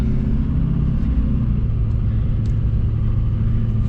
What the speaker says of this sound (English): I hate hauling hay down gravel.